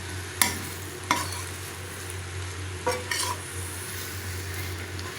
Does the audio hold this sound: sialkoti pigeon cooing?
no